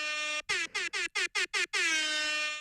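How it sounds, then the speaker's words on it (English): An air horn sound effect played from a phone app blasts loud and alone: one long tone, then six short rapid honks, then a final sustained blast that slowly fades. "I had to go through the app store and actually find an app to do an air horn"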